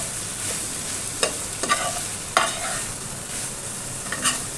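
Bean plant leaf curry is stirred with cumin paste in hot oil, a soft continuous sizzle broken by a few sharp scrapes and clicks of the spoon against the pan.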